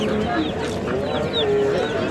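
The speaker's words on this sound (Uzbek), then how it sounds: "Xo'rozlar." Roosters cluck and crow among other fowl at a busy poultry market in Yangiqo'rg'on, Oqdaryo, Samarqand, several birds calling at once at moderate distance over steady crowd murmur.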